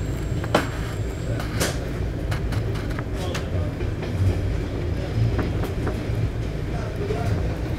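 An EIC express train between Warszawa Centralna and Warszawa Wschodnia rumbles steadily along the rails with rhythmic clicks of wheels over track joints, a continuous close interior drone, and a voice talking over it.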